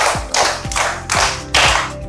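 Students in an Islamic religious education class clap together five times on cue, each a crisp, loud burst of many hands in a steady rhythm, close and reverberant in the classroom.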